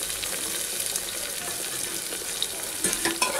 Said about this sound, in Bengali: দিয়ে একটু নাড়াচাড়া করবো।